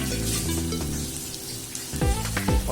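Chopped onions fry in hot oil for a chicken dum biryani, a steady close sizzle with crackling bursts and faint stirring sounds throughout.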